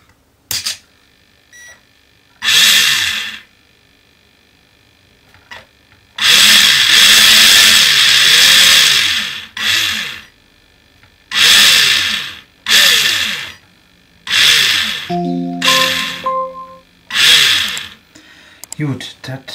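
Small Tamiya NSU TT Prinz RC car motor whirring in repeated short bursts as the throttle is tested, separated by quiet gaps, close by, with a few brief beeps and occasional talk.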